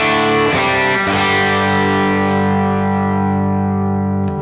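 An electric guitar played through a Tone X capture of a Matchless amp rings out a few strummed, overdriven chords that sustain loudly and decay slowly, with no voices.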